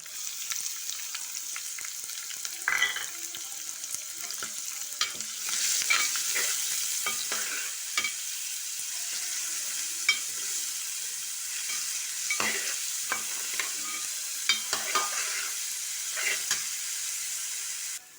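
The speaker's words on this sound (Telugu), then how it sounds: "చూడండి ఇలా చక్కగా వేగిపోయిందండి మామిడికాయ" Raw mango pieces fry in a pan with a steady close sizzle, broken by repeated clinks and scrapes as they are stirred, and no one speaks.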